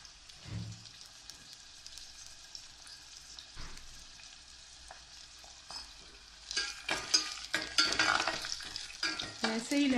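Garlic and curry leaves fry in hot oil while being stirred: a soft, crackling sizzle with scraping spoon strokes, growing louder and busier toward the end as the pan spits more intensely.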